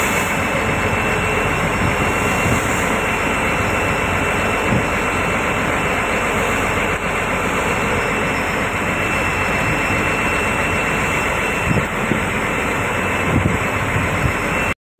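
A fishing trawler's engine drones loudly and continuously in the deep Bay of Bengal on a hilsa fishing trip, a heavy unbroken roar with a broad hiss of wind and water over it.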